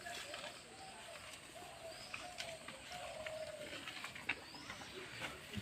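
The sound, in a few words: birds singing in village morning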